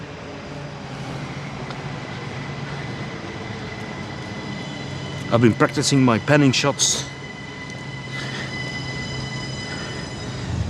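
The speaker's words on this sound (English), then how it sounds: "Oh, there's a train coming." A train arrives at a station as a steady, fairly loud rumble and hum that runs the whole time. Someone talks briefly midway over the noise.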